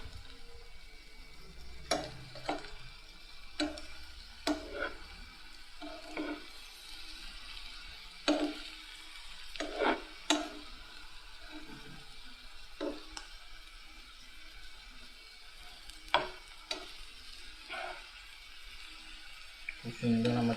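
Chillies fry in a pan at a large live cooking show, giving a soft sizzle broken by scattered clicks and scrapes, fairly quiet overall.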